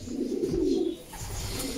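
Racing pigeons cooing inside a loft, low throaty burbling coos close by, rising and falling over a faint background without speech.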